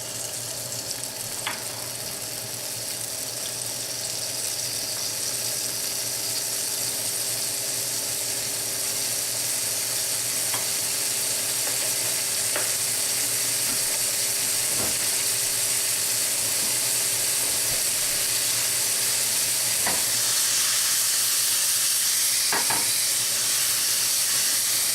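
Cherries fry in olive oil in a hot pan, giving a steady soft sizzle and hiss that swells slightly toward the end, with a few faint clicks and no voices.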